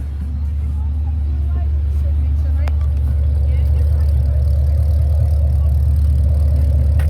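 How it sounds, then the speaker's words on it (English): A Holden VE Commodore SSV Special Edition with a 6-speed manual idles steadily, its exhaust giving a low, even rumble close by throughout, with faint background chatter. "Give you a listen to the exhaust system."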